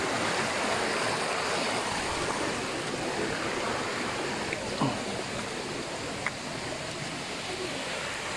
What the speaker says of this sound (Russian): Вот из этих глыб вытекает река.